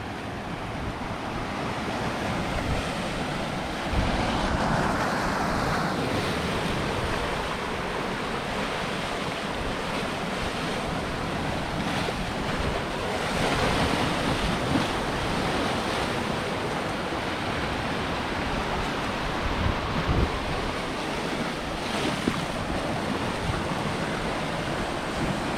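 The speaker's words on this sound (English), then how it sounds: "you'll get wet when a wave comes in and splashes you" Atlantic surf surging and splashing against the rocky shore at Portland Head Light in Maine, a continuous loud broadband wash with wind buffeting the microphone and swells rising and falling, no voices.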